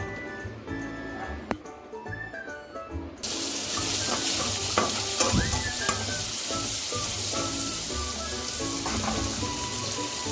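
Green chillies drop into hot oil and start frying, a quiet start giving way to a loud, continuous sizzle with occasional stirring clinks near at hand.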